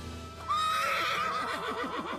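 A horse gives a loud, close whinny lasting over a second, with a high wavering tone that breaks into rapid fluttering pulses toward the end, heard alone with no talk.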